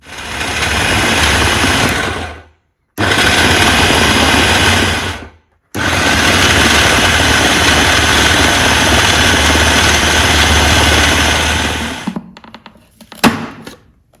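Electric grinder mincing a chicken kebab mixture, a loud steady whirring motor run in three bursts separated by short stops, ending in a few knocks and clatters.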